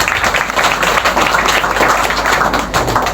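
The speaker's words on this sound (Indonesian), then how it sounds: "tepuk tangan kagem umat." A congregation applauds during a piodalan ceremony at a small Hindu temple, producing loud, dense, continuous clapping close by, with no talk over it.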